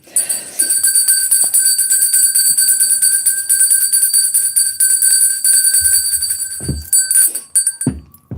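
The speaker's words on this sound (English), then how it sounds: "I need to ring the bell" A bell rings out loud and sustained with steady bright tones, followed near the end by a few low thumps of handling.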